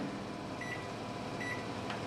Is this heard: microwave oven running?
yes